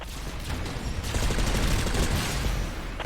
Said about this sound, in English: Switch to your rocket launcher and take them out.